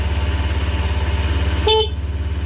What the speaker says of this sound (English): Good horn.